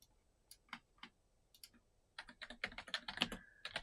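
Keys on a computer keyboard clatter faintly in a quiet room: a few scattered taps at first, then a quicker run of keystrokes toward the end, with no talking.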